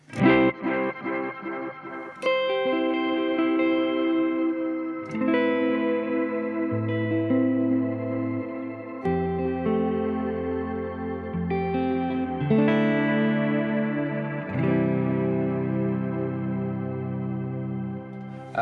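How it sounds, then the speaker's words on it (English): Electric guitar chords ringing out through an octave-up reverb and delay pedal, notes sustaining and blending into a washy, echoing tail. "Next I've got this octave up reverb, octave up delay."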